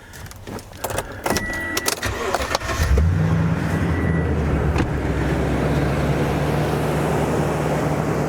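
A car engine cranks with rapid stuttering pulses for a few seconds, then catches and settles into a steady, close idling rumble.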